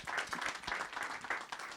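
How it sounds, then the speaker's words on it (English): Audience applause for a board of a Sag Harbor cinema project, a steady wash of many hands clapping at moderate distance, fairly faint and continuous throughout. "our extraordinary board, who need to get a huge round of applause"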